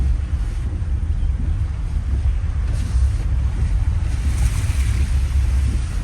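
Floodwater after 100mm of heavy rain pours out of overwhelmed drainage pipes in a loud, continuous rushing roar, heavy in the low end and steady throughout, with some wind buffeting.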